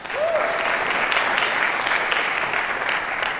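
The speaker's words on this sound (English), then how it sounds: "A round of applause for Michael Numis" Steady crowd applause fills the room at a public announcement of Philadelphia's celebration plans for America's 250th birthday, a dense, even wash of clapping from a large audience that holds for about three seconds with no talk over it.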